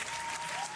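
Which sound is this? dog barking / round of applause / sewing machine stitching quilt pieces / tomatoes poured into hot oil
round of applause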